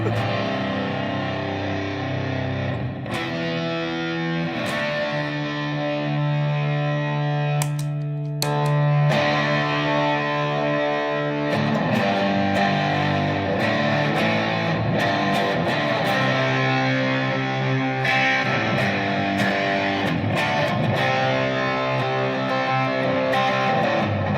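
Distorted electric guitar through a Black Arts Toneworks effects pedal, playing thick, chewy chords and riffs with a heavy low end, loud and sustained throughout with brief gaps between phrases.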